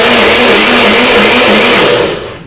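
A blender whirs steadily at high speed, mixing coconut water and mango into a smoothie, loud and close, with its motor winding down at the end.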